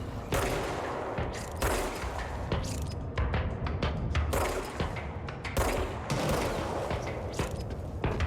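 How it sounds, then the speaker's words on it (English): A dense, nonstop barrage of gunfire and booming blasts in the video game Control, loud and chaotic throughout, with rapid bursts overlapping each other. "I hear explosions."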